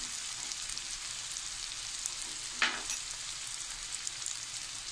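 Onion, garlic and tomato frying together in a pan for Bengali prawn malaikari, giving a steady, even sizzle throughout with one brief louder crackle midway, heard alone without talk.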